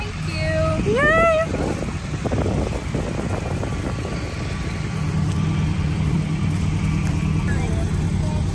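Chevrolet C10 truck cruising on the highway, a steady low engine hum and road roar that continues under people talking in the cab.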